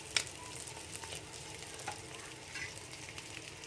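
Green chillies, cabbage, capsicum and carrot sautéing in a pan for egg fried rice, a steady soft sizzle with faint scraping stirs, quiet and close, no voices.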